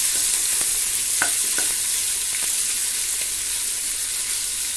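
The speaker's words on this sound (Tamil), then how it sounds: "வெங்காயம் நல்லா ஒரு கோல்டன் ப்ரௌன் வர வரைக்கும் நல்லா மிக்ஸ் பண்ணி கொடுத்துக்கலாம்" Sliced onions fry in hot oil for chicken biryani, giving a steady loud sizzle broken by a few light scraping stirs of a spoon or ladle.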